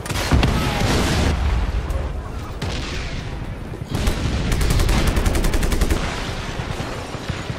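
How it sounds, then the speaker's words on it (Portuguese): Tank cannon blasts and explosions in Just Cause 3, with repeated heavy booms and rapid gunfire bursts layered over dense, loud combat noise throughout. "I bet the cannon still works."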